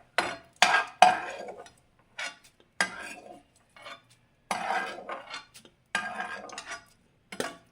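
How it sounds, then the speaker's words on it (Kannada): Curry leaves are roasted crisp in a pan, with a spoon scraping and stirring in irregular, fairly loud bursts separated by short pauses. "ಗರಿಯಾಗಿ ಹುರ್ಕೊಬೇಕು ಕರಿಬೇವನ್ನು."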